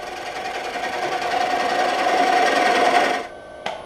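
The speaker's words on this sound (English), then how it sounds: "I'm pushing into the side grain for a smoother cut" Wood lathe spinning a bowl blank of green, freshly cut wood while a skew chisel shears across the side grain, giving a steady close rasping hiss that runs for about three seconds, then drops away to a quieter hum with a brief tap near the end.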